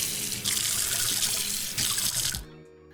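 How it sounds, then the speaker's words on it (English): Hands being washed under a running tap, a loud close gush of water splashing into the sink that breaks as the hands move through the stream, then cuts off sharply as the tap shuts. "I'm gonna have to go wash my hands."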